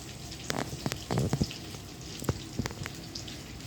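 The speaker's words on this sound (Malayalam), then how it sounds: "മല്ലിയും മുളകും കൂടെ വറുത്തെടുക്കുക" Coriander seeds and dried chillies dry-roast in a pan, giving a faint, scattered crackle with sharp clicks and brief rattling bursts, no voices.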